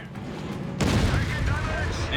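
Rapid machine gun fire and booming shots in Company of Heroes 3, a dense, loud barrage of battle noise breaking in suddenly and continuing under an excited commentator's voice.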